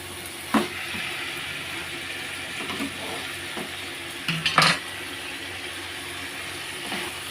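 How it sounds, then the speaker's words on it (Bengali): Pointed gourd and potato curry with spices being stirred in a pan, a soft steady sizzle under occasional scraping and a cluster of metallic clinks from the spoon, no voices. "এবার দিয়ে আমি একটু ভালো নাড়বো"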